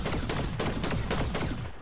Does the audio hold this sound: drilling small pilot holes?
no